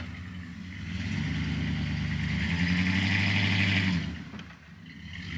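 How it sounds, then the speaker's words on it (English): A truck engine revs and rumbles while backing up on an icy, snow-covered driveway, swelling to a loud, sustained drone before easing off. "So now Jeremy's backing it up so we can get it out of the truck and stored"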